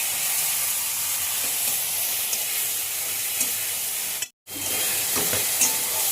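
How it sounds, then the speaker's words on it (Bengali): Spice paste and fried onion sautéed and stirred in hot oil, with a steady close sizzle and hiss, scraping stir noises throughout and a brief silent break just past the middle. "মশলাটা ভালো করে কষিয়ে নেবো।"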